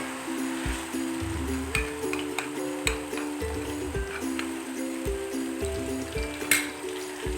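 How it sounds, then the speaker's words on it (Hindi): Onions and ginger paste fry in a pan with a steady, close sizzle, broken by occasional ticks and stirring clinks, while a low hum runs beneath. "प्याज फ्राई हो चुके हैं"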